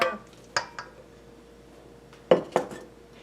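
Utensils clink against a bowl while frittata di spaghetti ingredients are mixed, giving a few sharp close knocks and clatters separated by quiet pauses.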